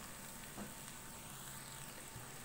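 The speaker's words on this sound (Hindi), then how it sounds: "1 से 2 मिनट लहसुन अदरक को प्याज के साथ अच्छी तरह से फ्राई कर लेंगे" Garlic and ginger fry with chopped onion in a pan for a Pakistani palak chana dal, giving a soft, steady sizzle that carries on evenly with no talking.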